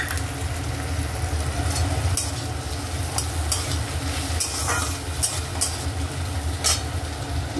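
Green peas tipped into a pan of frying potatoes and tomatoes set off a steady, close sizzle, broken by scattered sharp clicks of stirring and scraping.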